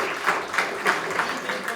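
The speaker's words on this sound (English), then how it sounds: "How about a round of applause?" An audience claps through a round of applause at the end of a talk on the royal governors of Massachusetts, a dense, steady patter of many hands with small swells, close and moderately loud.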